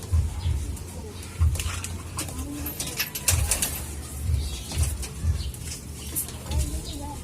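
Soft low coos repeat at intervals among rustling, with occasional bursts of wing flaps and faint voices in the background.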